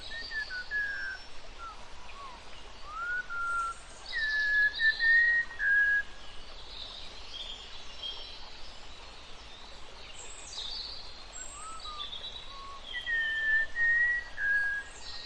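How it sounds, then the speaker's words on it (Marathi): Jungle in Arunachal Pradesh, with clear whistling bird calls repeating in short phrases every few seconds over a soft, steady forest hush, some calls near and bright, others fainter in the distance. "पक्षी, झाडं, जंगलाचे आवाज हे सगळं अनुभवू दिलं."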